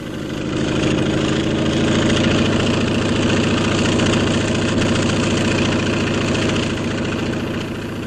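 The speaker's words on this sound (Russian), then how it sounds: "На помощь пришли самолеты гражданской авиации." A civil aviation airplane engine runs at the Chernobyl cleanup site, a loud steady droning hum with strong low rumble and buzzing harmonics, swelling slightly then holding level throughout.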